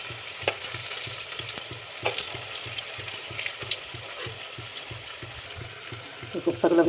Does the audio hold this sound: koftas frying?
yes